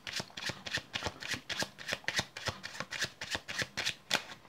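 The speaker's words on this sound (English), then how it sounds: "So we'll give the cards a shuffle." A deck of playing cards is riffled and shuffled close up during a magic trick, a rapid series of crisp fluttering bursts repeating in a steady rhythm.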